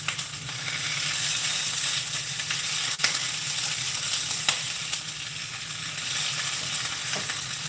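Sausage fries fast in a hot skillet, giving a steady, bright sizzle and crackle that stays loud and even throughout. Occasional faint ticks sound from the pan.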